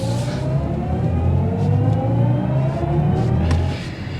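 A 2024 BMW i7 M60 electric sedan accelerates hard on a track, its loud rising motor whine climbing steadily in pitch under a deep rumble of road and wind noise, close and continuous before easing off at the end.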